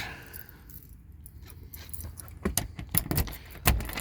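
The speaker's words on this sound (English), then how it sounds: "All the keys." A bunch of keys jangles close by at a homestead, bright metallic clinks rising after a quiet start and building to several sharp rattles near the end.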